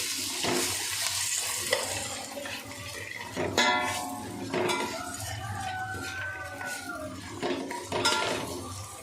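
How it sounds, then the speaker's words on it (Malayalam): Onions with salt being sautéed in a pan, a steady sizzle and frying hiss running throughout with repeated scraping stirs of a spatula against the metal pan, close and fairly loud, no talk. "അപ്പം ഉള്ളി വഴറ്റാൻ സ്റ്റാർട്ട് ചെയ്തിട്ടുണ്ട്"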